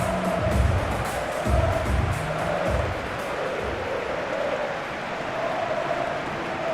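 A large stadium crowd at a Scotland vs Denmark World Cup qualifier in PES 21, a steady roar with swelling chants and rhythmic surges, sustained and loud without pause.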